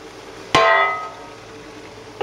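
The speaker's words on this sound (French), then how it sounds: "Puis on va placer le couvercle de notre sauteuse" A metal lid set down on a sauté pan gives one sharp, close clang that rings briefly and fades, followed by a faint tap near the end.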